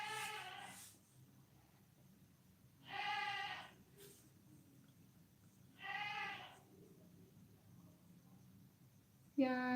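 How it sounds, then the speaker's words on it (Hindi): A goat bleats indoors, three distinct cries spaced a few seconds apart, moderately near, with a quiet room between calls and a voice starting at the end. "बकरी को चुप करो। नहीं होती चुप।"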